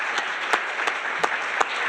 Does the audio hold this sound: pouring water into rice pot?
no